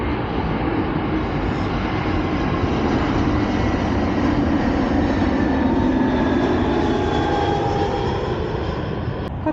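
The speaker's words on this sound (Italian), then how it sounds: "sta atterrando un aereo" An airplane coming in to land flies low over a lake, its jet engines making a loud, sustained roar with a slowly shifting whine that fills the whole stretch.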